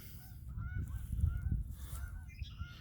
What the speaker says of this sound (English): There's some of the geese out there.